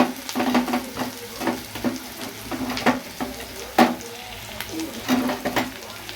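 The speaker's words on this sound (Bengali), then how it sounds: "এই যে পেঁয়াজ কাঁচা লঙ্কা দিয়ে দিলাম, দিয়ে একটু নুন দিয়ে ভালো করে ভাজবো" Onion and green chilli with a pinch of salt fry in an iron wok, a soft continuous sizzle broken by regular scraping stirs and light metal clinks, close up with no talking.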